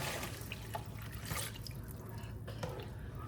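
Water is poured into a blender holding blended onion for butter chicken, giving a close, steady splashing and trickling sound for about three seconds with a few drips.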